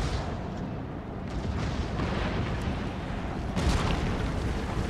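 Artillery cannons fire in Empire Total War, a constant rumbling roar of distant booms and battlefield din with a couple of sharper reports standing out.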